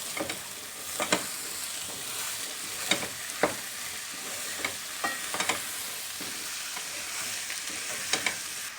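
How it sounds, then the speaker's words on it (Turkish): A spiced pea stew seasoned with black pepper, red pepper and salt being stirred in a pot, with a steady sizzle under repeated sharp scrapes and clicks of the spoon against the pot, close and without talk. "Bir tatlı kaşığı da tuzumu ekliyorum. Bu şekilde karıştırıyorum."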